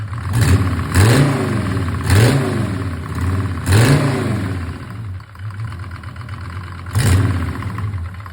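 A Mercedes OM602 2.9-litre diesel engine idling roughly, then revved up in five or six short throttle blips at uneven intervals, loud and close.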